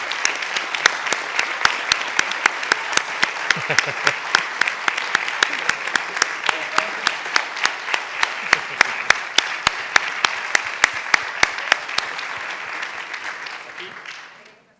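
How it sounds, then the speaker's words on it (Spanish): A conference audience at a closing session stands and applauds Dr. Alicia Zambueli, a loud sustained wave of clapping with rhythmic emphatic claps running through it, then fading out at the end. "un fuerte aplauso para Alicia Zambueli"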